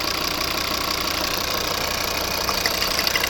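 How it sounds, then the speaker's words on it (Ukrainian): A 2011 Volvo V50 2.0 D3 diesel engine idles close by with a steady, continuous rumble and faint rhythmic knocking, unchanging throughout. "заводиться дуже класно чітко"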